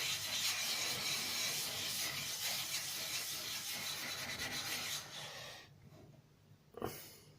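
Steady rubbing and grinding of a Nakayama Japanese natural whetstone being flattened by hand, a continuous close scraping that runs for about five seconds, then eases off into quieter strokes with a brief sharp scrape near the end.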